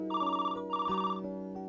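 A telephone rings indoors with a bright electronic ringtone, two repeated trilling bursts over a steady tone, loud and close with no talking.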